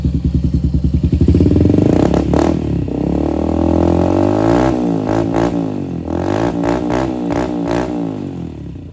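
A Honda TRX90 ATV engine with an HMF exhaust idles with a low, throbbing exhaust burble, steady and moderately loud, with a few light revs and mechanical clatter.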